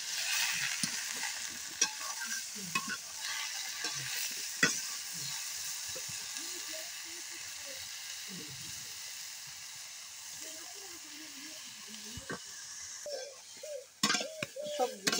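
Vegetables fry with turmeric and green chili while being stirred in a pan. There is a faint, steady sizzle with scattered scrapes and clinks that grow busier toward the end, and soft voice-like sounds can be heard in places.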